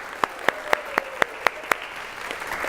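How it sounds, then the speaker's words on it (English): A group in a vocabulary movement session claps in unison: seven sharp, evenly spaced claps in a steady beat, then a brief fade of softer room noise. "Round of applause."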